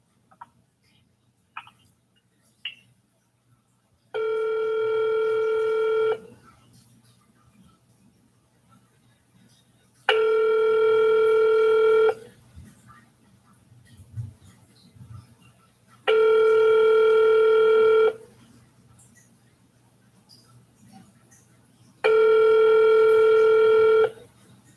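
A telephone rings back over the line after a call to a hospital switchboard, four long evenly spaced rings about six seconds apart, steady and clear, with faint clicks and a low hum between them.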